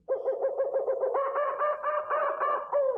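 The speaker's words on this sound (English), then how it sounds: "That's a kookaburra. The track is just called Kookaburra." A kookaburra call sound effect set in a jungle scene. A rapid series of hooting, laughing notes repeats for about three seconds, loud and close, with no voices.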